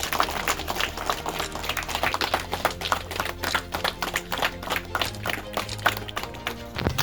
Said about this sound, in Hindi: आप लोग तालियों से स्वागत कीजिए